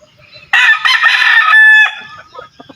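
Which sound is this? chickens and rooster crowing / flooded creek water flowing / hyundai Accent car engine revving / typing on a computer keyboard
chickens and rooster crowing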